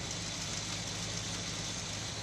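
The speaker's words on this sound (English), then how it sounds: "Okay, listen to the engine right now." A 1972 Plymouth Duster engine idles rough while still cold, a steady low mechanical drone with an uneven rumble running unbroken at close range.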